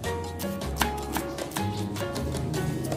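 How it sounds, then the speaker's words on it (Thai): Fresh ginger is sliced thinly with a knife on a board, giving a series of sharp, close cutting knocks at an irregular rhythm over a steady background, with no speech. "ก็ฝานบางๆค่ะ"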